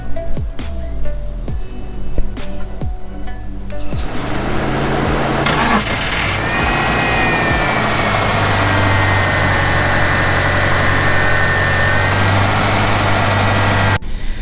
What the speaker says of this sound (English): the idle isn't too bad. It's still shaking a little bit.